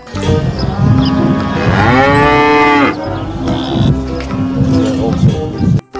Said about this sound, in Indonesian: indukan sapi berwarna putih